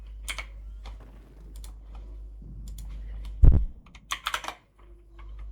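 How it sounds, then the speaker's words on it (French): Scattered clicks of keys on a computer keyboard, a few quiet taps followed by a sharper cluster of keystrokes over a low background hum. "Si les bruits de touche ça me dérange"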